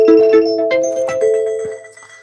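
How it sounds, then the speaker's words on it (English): A phone ringtone plays a melodic sequence of bright chiming electronic tones in a steady repeating rhythm, loud and close with no talking over it. "This isn't the good ringtone"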